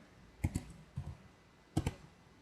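An invoice number typed on a computer keyboard: a few crisp key clicks in small pairs, a double tap, a single softer press, then another quick pair, close and quiet with no voices.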